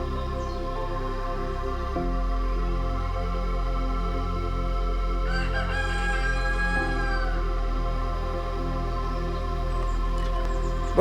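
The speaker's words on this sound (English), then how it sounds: "here we come across an unusual house, which has become a chicken sanctuary." Chickens and a rooster at a chicken sanctuary beside a village road, with a clear crow in the middle over steady background clucking and ambient noise, heard from a moderate distance with no talking.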